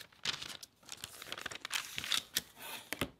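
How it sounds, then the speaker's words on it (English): A rotary cutter trims fabric along a paper piecing pattern with a ruler, giving soft, irregular crisp rasps and crinkles of paper, close and quiet. "Using my rotary cutter and ruler, I'm going to trim on the dotted line all the way around."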